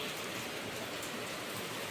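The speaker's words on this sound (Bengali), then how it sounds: "শুরু হয়ে গেল বৃষ্টি" Steady rain falls, a dense, even hiss of drops on surfaces that holds at constant loudness throughout, with no voices.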